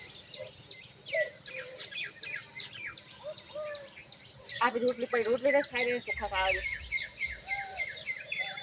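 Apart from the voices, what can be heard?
house sparrows chirping while feeding on rice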